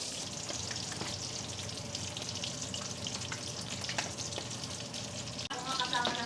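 Food frying in a pan until crispy, giving off a steady, dense sizzle throughout, close and fairly loud, with faint clatter of utensils and a brief knock near the end.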